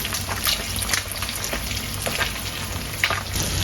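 Water goes into a pan of fish curry being cooked, producing a close, continuous hissing sizzle with a few brief crackles and splashes over a few seconds.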